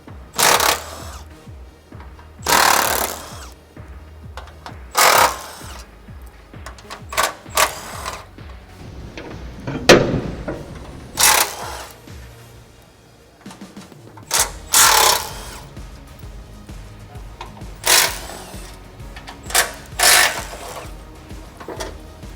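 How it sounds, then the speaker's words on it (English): An impact gun with a 12mm socket rattling skid plate bolts off a 5th-gen Toyota 4Runner, loud hammering bursts of a second or two repeated about a dozen times, with softer mechanical clatter between them. "All you'll need for this is a 12mm on an impact gun, and you'll have 4 bolts for each skid plate"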